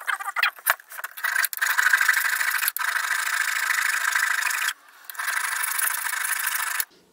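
A hand file on a SOG PowerAssist multitool rasping across metal, giving steady rough strokes in several long bursts with short pauses between them, close and fairly loud, with no talking.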